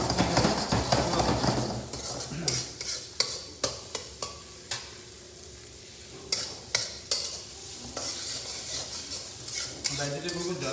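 Vegetables sautéing in a pan for paneer tikka, a steady sizzle under repeated scraping stirs and sharp clacks of a spoon against the metal, close and fairly loud.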